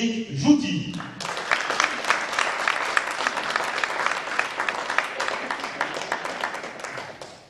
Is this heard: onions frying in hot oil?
no